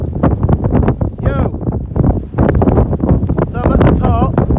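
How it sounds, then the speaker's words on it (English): Strong wind roars and buffets the microphone in steady gusts on the summit of Yes Tor, with a person talking faintly underneath. "it's extremely windy up here"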